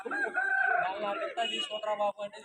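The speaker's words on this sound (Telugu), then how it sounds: "చూడండి కోడి పిల్ల" At a rooster market in Vijayawada, a rooster crows loudly and close by, a long drawn-out call followed by shorter broken squawks.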